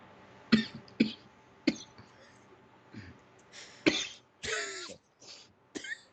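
Several separate coughs and throat-clearing bursts, close and loud, spaced irregularly with short quiet gaps.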